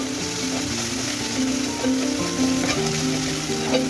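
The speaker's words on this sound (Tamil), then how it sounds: "இப்போ அந்த மட்டன் கீமாவை இந்த எண்ணெயிலையும் நல்லா வதக்குங்க" Mutton mince sautéing in oil in a pan, with a steady, close sizzle running throughout and no speech over it.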